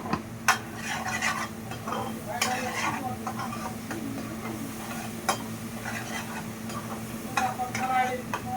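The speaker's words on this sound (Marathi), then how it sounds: "मस्त पैकी आहे ना असं परतून घ्यायचं" Mutton masala being sautéed in oil for spicy mutton methi, with a spoon repeatedly scraping and clinking against the pot over a low sizzle, steady and close.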